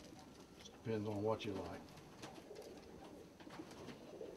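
Collar moorhead pigeons coo in one close, throaty burst of rolling coos, with softer bird sounds after it as someone talks over the scene.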